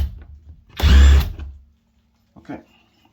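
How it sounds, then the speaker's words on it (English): Power drill boring into soft wood beside a hinge on a dragging interior door, one loud sustained whine lasting about a second, then a short clatter afterward. "so I'm still gonna drill here."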